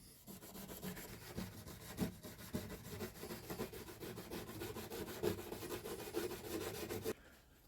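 Rhythmic scrubbing strokes clean the frets and fretboard of a blackheart sassafras guitar, a close, dry, rasping rub repeated steadily for several seconds before it stops.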